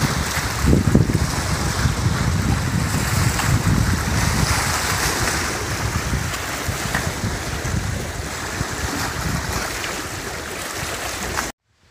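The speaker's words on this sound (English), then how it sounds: "The wind is really whipping today, so the water crashing against the shore, waves crashing against the shore." Wind-driven waves crash steadily against a lake shore, a loud continuous roar of surf mixed with heavy wind buffeting, with no talking over it.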